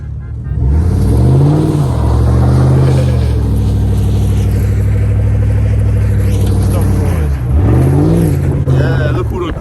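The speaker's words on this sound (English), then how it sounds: "Look who done crunk up their truck" A pickup truck engine on snow revs loudly and steadily, rising and falling in pitch through several long pulls, close and dominant throughout.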